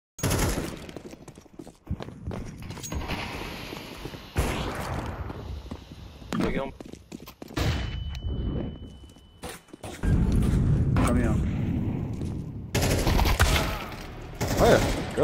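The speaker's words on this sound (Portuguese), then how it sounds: "Eu tô escutando o tiro" Gunfire in a Counter-Strike 2 match played on a weak PC: bursts of rapid shots and scattered single reports, some distant, mixed with footsteps and game noise, with a player talking over much of it.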